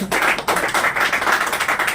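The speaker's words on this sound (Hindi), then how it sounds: "एक बार जोरदार ताली इनके लिए बजा दीजिए" Audience applause bursts out at a business gathering, a dense, close patter of clapping with a short dip before it swells again.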